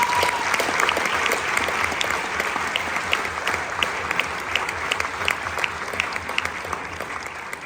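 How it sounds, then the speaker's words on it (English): Steady applause from a concert band honors presentation audience fills the room, dense and sustained for several seconds, with no talk over it. "One more round of applause for those guys."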